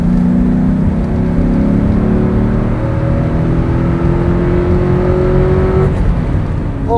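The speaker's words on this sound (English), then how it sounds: "Little third gear pull there." A 2003 Ford Mustang Mach 1 with a 4.6 V8 and five-speed manual pulls hard in third gear, engine note rising steadily and loudly for several seconds before easing off.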